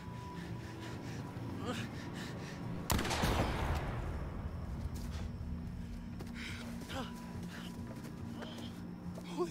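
A single loud gunshot blast in The Quarry video game rings out sharply, followed by a decaying echo and tense background ambience, with people talking around it.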